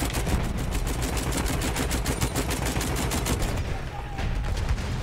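Dense, continuous gunfire from the Battlefield 1 video game during a Conquest match at Amiens: rapid rhythmic bursts of shots fill the scene loudly from start to finish, with a brief thinning near the end.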